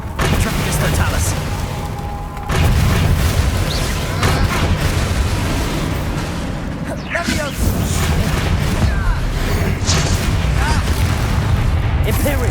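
Explosive Bombarda and Confringo spells cast in Hogwarts Legacy, heard as loud repeated booms and blasts over a dense, busy combat mix.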